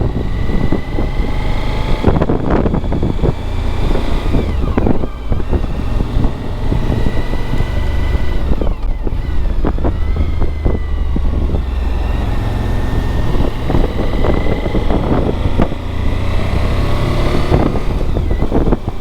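An adventure motorcycle engine drones steadily for the whole stretch, loud and close, with heavy wind rush buffeting the microphone as the bike rides along.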